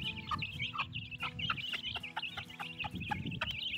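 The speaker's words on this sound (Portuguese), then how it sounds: "Ó, vou tratar dos pintinhos agora." Hens and chicks cluck and peep while being fed, a busy flock of short repeated calls and high cheeps close by, with scratching and shuffling underneath.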